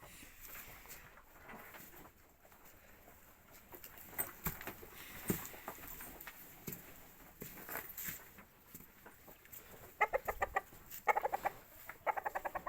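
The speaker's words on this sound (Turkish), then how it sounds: "Ne istiyor horoz?" A rooster clucks and calls nearby in short bursts, with a quick run of sharp clucks near the end over faint background noise.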